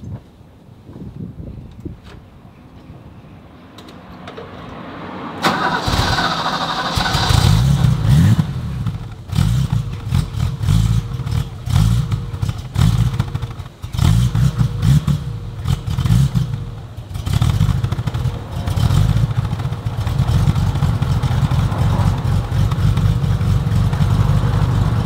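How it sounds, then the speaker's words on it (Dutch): Rally car engine during a cold start, a quiet lead-in before the engine catches abruptly, then loud rough revving with clattering bursts that settles into a steady, high idle, close by. "Hoe noemen ze dat? Een cold start."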